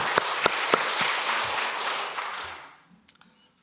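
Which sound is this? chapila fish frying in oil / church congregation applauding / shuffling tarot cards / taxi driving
church congregation applauding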